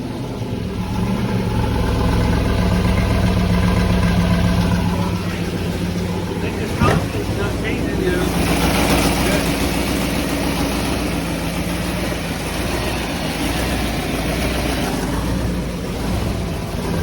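A car or truck engine with a freshly primed fuel pump idles quietly and steadily, a low, even rumble that keeps going. A brief clunk sounds partway through.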